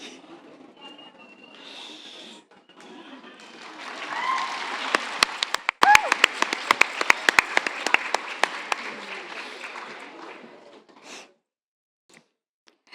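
An audience applauds and cheers after an Arangetram dance performance, the clapping swelling to a loud, dense peak, then tapering off and stopping before the end.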